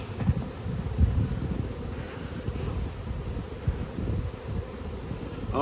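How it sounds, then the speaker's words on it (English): Bees in a nuc box buzz in a dense, steady hum close to the microphone, with light wind and handling noise. "Full of bees."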